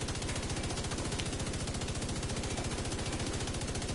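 The Bullet King exotic machine gun in The Division 2 firing nonstop, an unbroken, evenly spaced rattle of loud, close shots from start to finish with no talking.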